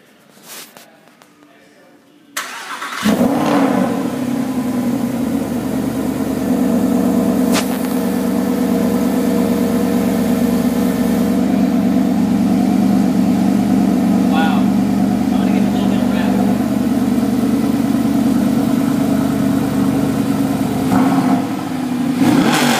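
A Mercedes SLS AMG Roadster engine fires up after a quiet moment, then settles into a loud, steady rumbling idle with occasional blips of revving, heard close from behind the car.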